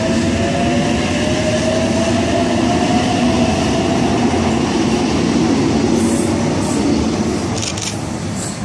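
A Newcastle Interchange train departs from a station platform at Ourimbah, rumbling loudly past at close range, a steady roar of wheels with a rising whine and some faint squealing toward the end.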